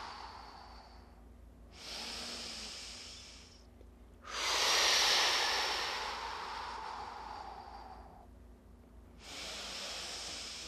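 Three long, breathy exhales during a Pilates abdominal scoop, the middle one strongest and longest, each separated by quiet pauses, close and unvoiced.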